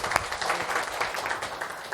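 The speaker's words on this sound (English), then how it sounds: "Give him a big applause." A small audience claps during a talk on body language, the scattered applause fairly soft and uneven, with a few sharper individual claps standing out briefly.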